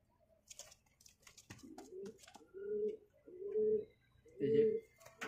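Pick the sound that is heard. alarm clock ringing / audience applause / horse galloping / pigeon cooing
pigeon cooing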